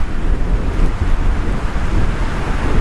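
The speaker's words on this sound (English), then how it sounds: "So windy." Strong wind buffeting the microphone at a lakeside campsite in spring, a loud continuous roaring rumble with gusty surges, no voices.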